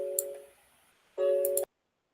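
Telephone ringing or signalling tones in two bursts, a short one then a slightly longer one after a pause, moderately loud against a quiet background with no talk.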